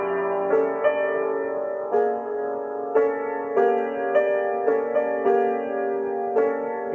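A piano plays section B of Ravel's Oiseaux tristes, with sustained chords and soft melodic notes entering at irregular intervals, resonant and moderately loud with no talk.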